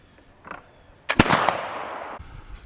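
A single loud, sharp report from a muzzleloading rifle at an outdoor rifle frolic in the woods, cracking suddenly and trailing off in a long rumbling echo, with faint background noise before it.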